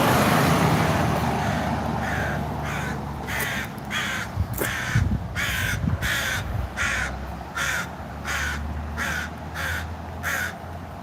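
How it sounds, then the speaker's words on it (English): Crow cawing repeatedly, a run of harsh, evenly spaced caws that carry loud and close over a low hum of road traffic, with no talk. "That crow is Kakan."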